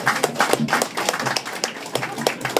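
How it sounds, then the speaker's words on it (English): Applause and clapping from an audience at a charity comedy night, a short burst of quick, rhythmic claps of moderate loudness, with voices mixed in. "Give me a round of applause for that."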